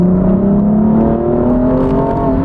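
A BMW M235i accelerating hard, its engine note revving steadily upward in pitch, loud and continuous with no talking over it.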